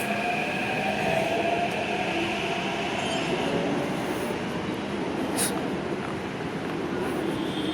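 A Hyderabad metro train pulls away from a station with a steady, fairly loud rolling rumble and a brief high squeal partway through.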